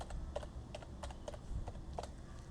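Light, irregular clicks of keys on a computer keyboard as a username and password are typed, quiet and close, with short bursts of keystrokes and small pauses between them.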